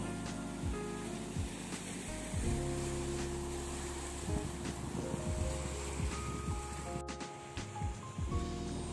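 Surf washing onto Parappally beach, a steady broad wash of sea waves with wind over the microphone and occasional low thumps, continuous and fairly loud throughout.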